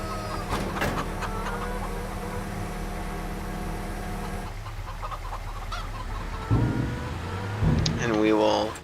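Chickens clucking on a farm, several short clucks and calls heard over a running vehicle engine hum, with people talking nearby.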